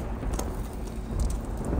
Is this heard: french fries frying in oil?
no